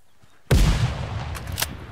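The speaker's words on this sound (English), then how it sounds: "grenades everywhere" A grenade explodes in the tactical shooter Ground Branch during a competitive match: one loud, sudden blast with a rumbling tail, followed by a couple of sharper cracks, likely shots.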